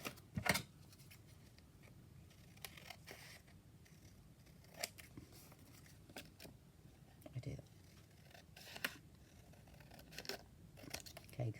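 Scissors snip repeatedly through craft material for an altered Altoid tin project, a series of quiet, sharp cuts spaced irregularly over soft background noise and faint murmuring.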